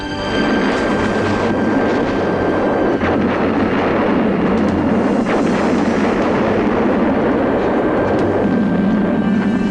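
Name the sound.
explosion of a miniature gas tanker truck model for film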